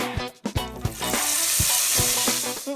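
A voice imitates the hot, hissing sizzle of tadka, spices tempering in hot oil, a sustained broadband crackle with a few short vocal bursts at the start and end.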